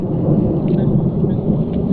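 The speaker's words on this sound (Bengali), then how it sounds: "আকাশের গর্জন" Thunder rolling during a sudden rainstorm in a forest, a loud, continuous low rumble that fills the whole stretch with a faint wash of rain above it.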